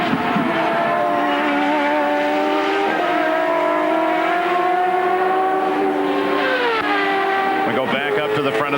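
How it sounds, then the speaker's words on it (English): IndyCar race cars at the Cleveland Grand Prix scream past with loud, steady high-revving engine whines that rise and fall in pitch as gears change, with a commentator talking over them. "Greg Moore, that blue and white car, runs in 7th place, looking for Adrian Fernandez up ahead."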